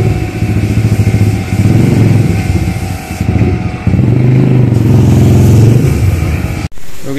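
A Yamaha YBR 125G motorcycle riding at top speed: the small single-cylinder engine drones loud and strained at high revs for several seconds, dipping briefly and then cutting off abruptly near the end.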